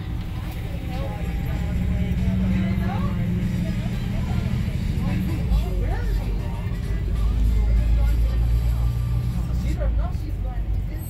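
A Disney Magical Express bus rolls out of Orlando Airport, its engine and road noise a steady low drone throughout, with people chattering and babbling inside the cabin over it.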